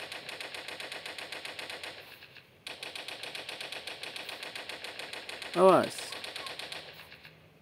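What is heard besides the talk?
gunfire from the video game Toilet Monster: Hide N Seek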